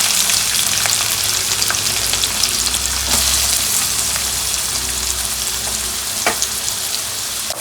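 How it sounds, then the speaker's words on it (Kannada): Sliced onions frying in hot oil with chopped green chillies, a loud close bubbling sizzle with scattered crackles and occasional stirring clicks, steady throughout with no voices. "ನೋಡಿ, ಈರುಳ್ಳಿ ಗೋಲ್ಡನ್ ಕಲರ್ ಬರೋ ತನಕ ಚೆನ್ನಾಗಿ ಎಣ್ಣೆಯಲ್ಲಿ ಫ್ರೈ ಮಾಡ್ಕೋಬೇಕು."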